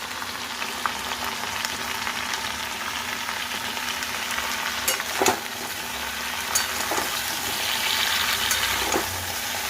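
Tomatoes and chillies fry in a pan with a continuous loud sizzle and crackle, broken by a few soft clicks and stirring sounds.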